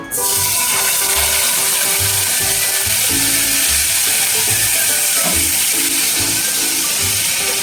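Steady, loud sizzling and crackling of garlic-ginger paste frying in hot oil for squid roast, continuous throughout with faint stirring clinks.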